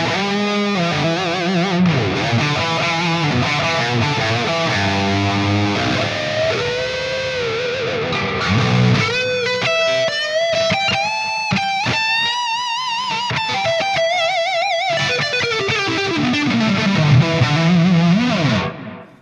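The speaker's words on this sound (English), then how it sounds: "a darker delay sound, a touch of chorus, and a touch of reverb" Mayones Regius 7 seven-string electric guitar with Bare Knuckle Silo pickups playing chords and melodic lines, drenched in dark delay repeats, shimmering chorus and reverb, continuous and loud before fading out at the end.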